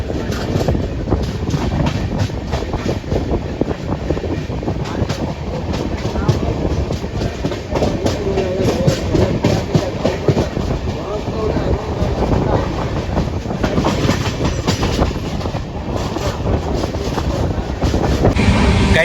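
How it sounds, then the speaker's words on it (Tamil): Madurai Pandian Superfast Express, train number 12637, running on rails past Chengalpattu toward Madurai: a steady, loud rumble of wheels and carriage with faint rhythmic clatter and wind noise throughout, heard from on board. "train number 12637 Madurai Pandian super fast எக்ஸ்பிரஸ்ங்க"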